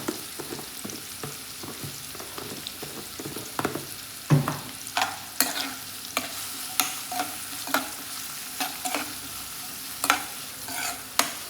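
Fish roe roast frying in a pan is stirred with a spoon, giving a soft continuous sizzle broken by about a dozen sharp scraping clacks at an uneven rhythm, close and alone.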